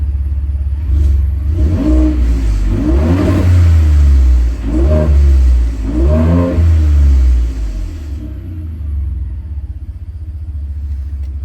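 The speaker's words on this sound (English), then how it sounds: "Let's give it some revs." A car engine with dual exhaust revs hard four times in quick succession, each rise and fall a deep roar, then settles to a low idle.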